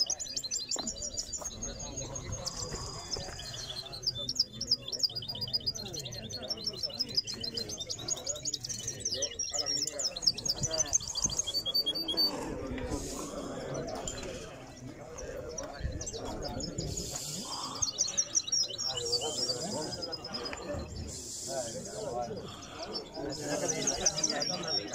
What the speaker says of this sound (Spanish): Mira, mira los pájaros de Juanma